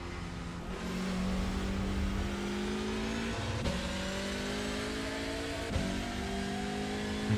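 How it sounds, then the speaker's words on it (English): A race car engine in a racing video game at Daytona drones steadily, its pitch climbing through gear changes as a faster car approaches and passes, the engine note loud and continuous with no talking. "There's a faster car approaching."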